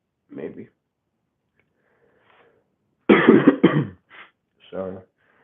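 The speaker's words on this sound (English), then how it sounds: "Sorry, still got a cough." One person coughs nearby in a short, harsh burst, followed by a few softer coughs and throat sounds, with quiet gaps in between.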